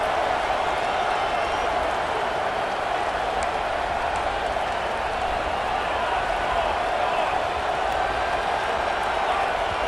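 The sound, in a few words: crowd roaring in stadium, College Football 26 video game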